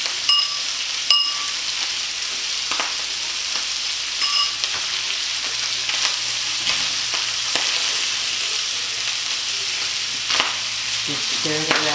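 Kung pao chicken fried rice with red bell pepper and peas being stirred in a hot pan: a constant bright sizzle under occasional spatula scrapes and clinks against the metal, close and fairly loud, with no talking.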